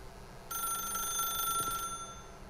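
A telephone rings inside the video game The Stanley Parable, a bright electronic trill lasting about a second and a half, loud and close with nothing else over it.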